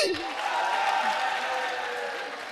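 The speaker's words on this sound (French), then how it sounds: "Ces applaudissements-là finissent vite, hein?" Audience at a French comedy show clapping and cheering together, a dense burst right at the start that thins out over a couple of seconds, with a voice briefly heard at the opening.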